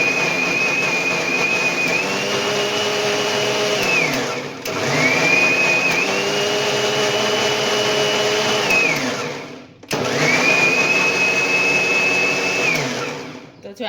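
A mixer grinder crushing tomato gravy roars loudly in three long bursts, each spinning up with a rising whine and cutting off briefly between runs.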